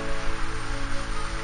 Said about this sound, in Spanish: Ha empezado una lluvia con truenos